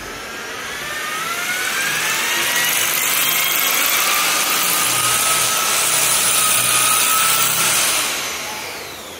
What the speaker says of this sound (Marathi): आता याला आपण ड्रिल करून घेऊया.